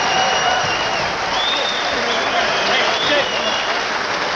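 A boxing crowd at an IBF featherweight title bout between Tom "Boom Boom" Johnson and Eddie Croft applauds after the fight, with steady, dense clapping and cheering throughout and a commentator talking over it.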